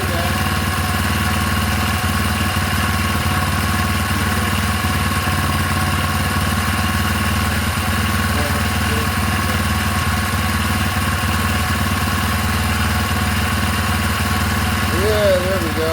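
A four-stroke engine idles steadily after start-up, its low even drone running unbroken at close range while a voice speaks briefly near the end.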